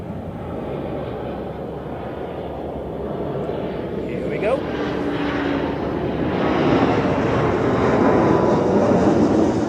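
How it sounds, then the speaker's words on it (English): Airbus A350 jet on its takeoff roll at Zurich Airport, a steady broadband engine roar heard from a distance that swells gradually louder over the clip, with talk faintly present. "we have the A350 now on takeoff roll"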